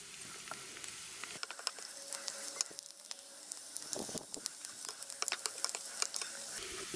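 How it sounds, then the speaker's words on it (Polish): A garlic clove stirred and fried briefly in a pan, cooked alongside cauliflower mushroom in butter: a steady close sizzle with frequent quick clicks and scrapes of the stirring utensil. "Teraz dodajemy ząbek czosnku. Mieszamy i posmażamy go krótko, jakoś około minuty"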